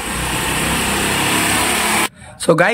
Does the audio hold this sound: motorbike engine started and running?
yes